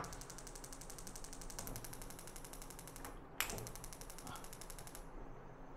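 Rapid, steady ticking of the igniter on a three-burner tempered-glass tabletop gas stove, continuous rapid clicks close by, with a sharper snap partway through and a quieter hum underneath.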